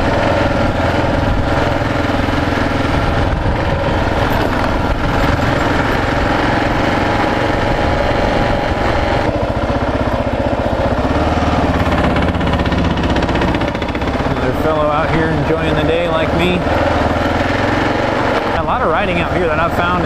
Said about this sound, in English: So riding motorcycles off-road in this sort of sandy stuff is pretty new to me.